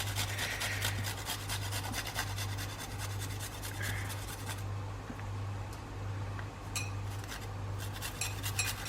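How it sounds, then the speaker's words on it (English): Garlic cloves are rubbed across a kitchen grater in rapid, steady rasping strokes, close and continuous, pausing briefly before a few final scrapes. "And then to grate the garlic over it."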